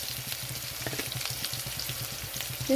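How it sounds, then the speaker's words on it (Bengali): Potato and eggplant pieces frying in oil in a pan, giving a steady, moderate close sizzle with faint crackles and a few light taps throughout, with no voices. "এখানে আলু বেগুনটা একটু ভাজা হয়ে গেছে তো এখানে আমি পরিমাণ মতো নুন দিয়ে দিচ্ছি"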